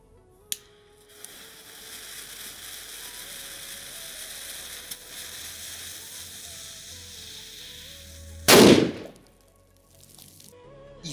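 A Tenkovska firecracker with 8 grams net explosive mass goes off as a single loud, sharp bang with a brief rumbling decay, after several seconds of quiet hum and a few small clicks.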